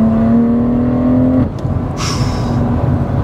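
A custom-tuned Stage 2 BMW M140i engine holds a loud, steady high rev that cuts off sharply, followed by a brief whoosh and a lower idle rumble.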